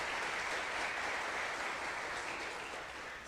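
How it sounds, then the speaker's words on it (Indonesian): Audience applause welcoming investor Lo Kheng Hong to the stage at an investment talk, a steady, dense wash of clapping from a large crowd that holds for several seconds and tapers slightly at the end. "kita beri aplaus kepada Pak Lo Keng Hong"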